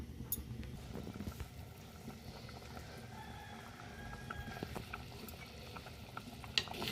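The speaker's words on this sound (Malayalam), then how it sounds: "മീനിട്ട് തിളച്ചിട്ടുണ്ട് കേട്ടോ" Faint, steady bubbling of sardine curry simmering in a covered pot, with soft irregular pops and a small clink near the end.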